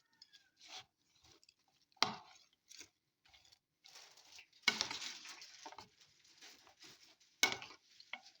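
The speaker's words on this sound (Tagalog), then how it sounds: "And I use mayonnaise. Now we'll mix" Vegetable salad is stirred with mayonnaise in a bowl, giving soft, wet, squelching scrapes and a few sharper utensil clicks in irregular bursts, close and quiet.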